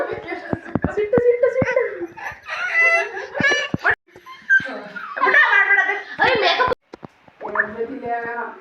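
A dog barks and whimpers in short, uneven bursts close by, mixed with rooster-like crowing and clucking while people talk loudly over most of it.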